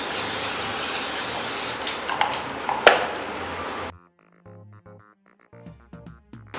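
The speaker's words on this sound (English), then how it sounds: "A little more spray." Cooking spray hisses onto a lined baking sheet in a long, loud, close burst of about four seconds, then cuts off abruptly, followed by quieter clinks and light handling sounds.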